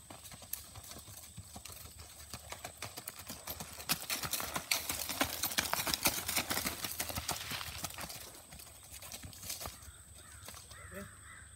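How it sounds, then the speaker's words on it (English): A mare's hooves strike the ground in her smooth, even walking gait, the rapid regular beats swelling louder as she nears and then fading, with crows cawing nearby. "She's just an easy going mare with a great disposition that will go anywhere you ask her to go, but this is really her gait."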